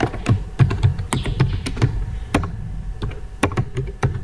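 Rapid typing on a computer keyboard while entering text in an Excel spreadsheet, irregular clicking keystrokes close by with a few louder thunks, no talking.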